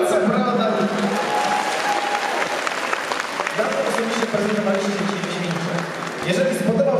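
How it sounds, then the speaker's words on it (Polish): An audience applauds warmly after a ballroom dance performance at a local charity dance competition, clapping sustained throughout while voices and cheers rise intermittently over it. "Gorące brawa"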